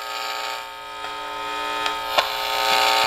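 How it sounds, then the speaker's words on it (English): Electrical static crackle and hiss from a Fluke Pro3000 tone probe, a steady buzzing noise bed with a few sharp clicks and pops rising above it, fairly loud and continuous with no talking. "much more noise, much more static."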